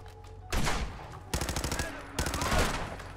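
Rapid automatic gunfire from a weapon in Fallout 4, coming in three loud bursts of repeated shots separated by short pauses, with no talk over it.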